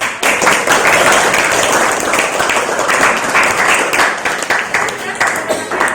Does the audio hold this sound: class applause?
yes